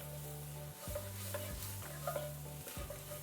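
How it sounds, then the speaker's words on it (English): Garlic fries and is stirred in a pan while cooking an eggplant, feta and mushroom phyllo pie. A steady sizzle runs underneath repeated spoon scrapes and stirs, with a constant tonal hum throughout. "we're going to go ahead and properly fry the garlic, get it a little bit toasted"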